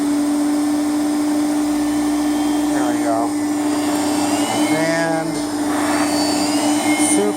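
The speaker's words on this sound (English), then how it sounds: "About the only real noise that is made by this machine is the power head." A 1986 Panasonic Jet Flo canister vacuum runs with its power head, a steady loud whirring drone with a high motor whine, under someone talking close by.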